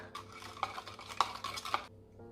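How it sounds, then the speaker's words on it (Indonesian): A spoon scrapes and knocks around a bowl as egg is stirred into a flour and yeast dough mixture for bread. Quiet, quick rhythmic stirring with a few light clinks fades out near the end. "Ini telurnya saya masukkan di tempat yeast tadi. Ini saya aduk."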